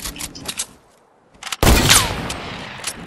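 Gunfire in the video game Fortnite: a sharp, loud burst of shots after quiet moments, with a ringing tail fading over the next second, preceded by faint clicks and shuffling.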